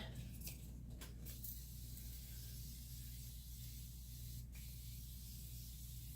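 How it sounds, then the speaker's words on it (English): A Morphe makeup setting spray hisses in a few short bursts near the start, followed by a faint, steady background hush. "I'm just going to mesh that all together with my Morphe spray"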